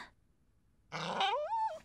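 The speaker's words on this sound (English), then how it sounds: "Dog?" A dog gives a short, close growl that rises into a whiny, wavering tone after a moment of near silence.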